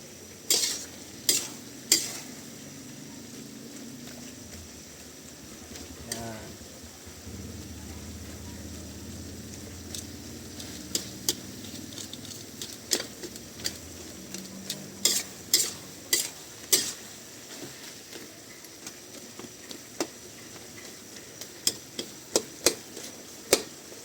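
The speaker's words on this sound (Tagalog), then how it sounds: "Liligisin natin ang bahagya o pipisain hanggang sa madurog ang ating kamatis." Tomatoes being crushed into pork in a sauté pan, a soft sizzle under repeated sharp metallic taps and scrapes of a utensil against the pan, irregular and close.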